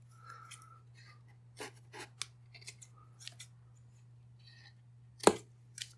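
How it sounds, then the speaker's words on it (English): Scissors snip away excess material while a bird house is being built, with a few soft separate cuts and one sharp, louder snip near the end, close up over a steady low hum. "Cut off some of the excess."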